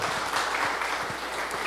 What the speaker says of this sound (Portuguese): Aplauda o Rei da Glória.